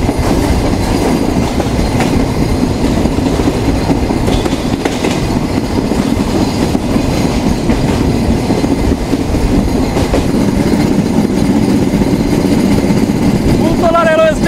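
A passenger train near Khulna runs at speed over the line between Daulatpur and Phultala stations, with a loud, steady rumble and clatter of wheels heard from inside, a faint squeal near the end.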